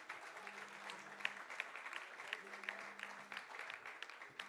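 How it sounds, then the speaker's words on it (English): Faint, steady clapping from an audience at a 2015 MCHI-CREDAI annual general meeting, a continuous patter of many hands with scattered sharper claps over a low hum, heard at a distance. "keep the claps on, ladies and gentlemen"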